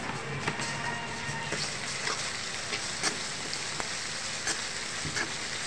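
Ginger-garlic paste sizzles in a frying pan with shrimp and lati, a soft continuous crackle dotted with sharper pops, fairly quiet and steady with no talking.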